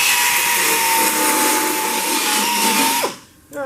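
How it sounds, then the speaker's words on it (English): A power grinder whines loudly and steadily close by while grinding down weld spots on a 1969 Chevy C10 truck, then spins down and stops near the end. "I got a couple spots here I want to grind down before I finish welding that"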